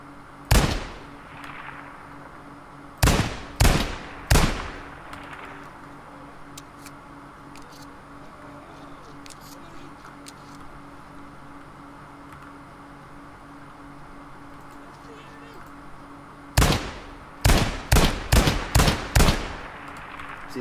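Shotgun blasts in the tactical shooter Ground Branch: three sharp, loud reports early, then a long quiet stretch of low room hum, followed by a quick cluster of five or six booming shots near the end.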